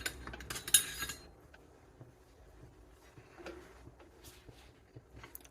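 Metal utensils clink and rattle in a short burst as a ladle is pulled from a kitchen drawer while potato soup with bacon cooks, then fade to a quiet room with faint scattered ticks.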